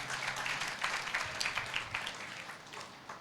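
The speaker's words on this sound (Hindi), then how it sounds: "बोले ताली बजा के प्रभु का धन्यवाद दें।" Congregation at a Thursday prayer meeting clapping in thanks, a dense burst of many hands applauding together, steady at first and then tapering off, with no talk over it.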